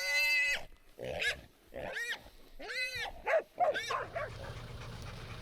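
Pig hunting dogs yelp, whine and bark in short, excited bursts close by, with several overlapping cries over a few seconds before settling into quieter background noise.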